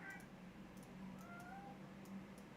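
A pet cat named Coco meowing faintly indoors, a few drawn-out, wavering calls in the background against a low steady hum.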